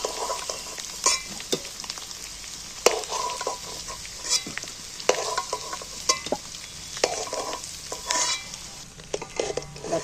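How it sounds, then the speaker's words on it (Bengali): Fried potatoes come out of hot oil one at a time amid steady sizzling, with sharp metallic clinks and scrapes from a utensil against the pan at uneven intervals. "এইবার আমি তেল থেকে আলুগুলো তুলে নিচ্ছি একটা একটা।"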